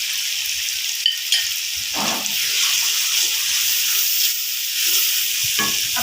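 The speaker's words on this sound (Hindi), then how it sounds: "2 मिनट इसको फ्राई करना है आपने।" Cumin and garam masala fry for chana pulao in a pan, giving a steady close sizzle and hiss, with a few soft stirring scrapes and clinks breaking through the spitting oil.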